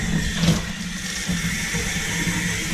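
Steady, fairly loud rush of water from the tap of a newly installed laundry sink once the supply valves are opened, running continuously without pause.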